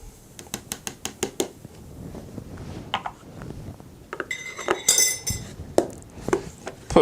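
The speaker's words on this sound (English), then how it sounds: "Give that a stir." A spoon stirs a maple pecan latte sweetened with maple syrup in a mug, giving a quick run of bright, regular clinks against the sides, then scattered louder taps and scrapes near the microphone.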